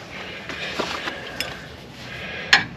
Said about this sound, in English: tighten up the nut. I'm going to snug it up pretty good